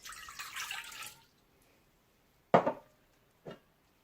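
Warm milk pouring into the bowl of a stand mixer, a short soft splashing stream that stops after about a second, followed by two quick separate knocks in an otherwise quiet kitchen.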